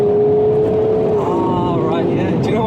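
A BMW diesel, 335d or 430d, pulls hard as its larger turbo comes on, a steady loud engine drone that dips in pitch then climbs again with rising harmonics, heard close under continuous talk.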